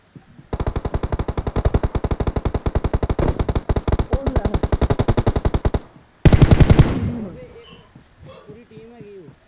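M416 assault rifle in a battle royale shooter game, a long rapid full-auto burst of evenly spaced loud shots lasting several seconds, then a short second burst, with a voice talking afterward.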